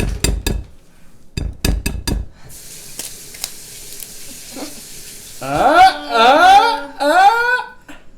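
An egg is cracked against a bowl edge for home baking, with several sharp taps and clinks, then a brief drip; close by in a quiet kitchen, followed by people talking.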